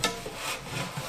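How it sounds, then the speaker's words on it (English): Cloth rubbing over a model rocket's carbon fiber tube top with denatured alcohol, giving a quiet, steady scrubbing and rubbing sound with a few short strokes, close by and without talk. "I'm just going to try and clean the top of the tube up with some denatured alcohol"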